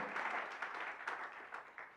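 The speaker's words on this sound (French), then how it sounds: "Non, non, tes acclamations ne me convainquent pas." A church congregation bursts into sustained applause and cheering, a dense, steady wash of many hands clapping with a few louder swells, close and filling the space.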